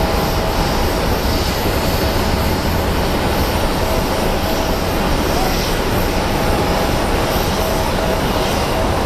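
A Boeing 737 Max jet roars loudly and steadily at Phoenix Sky Harbor airport, the engine noise near and continuous throughout.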